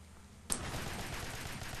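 Burst of automatic gunfire in the video game Alien Swarm, starting abruptly and continuing as a dense, steady rattle to the end.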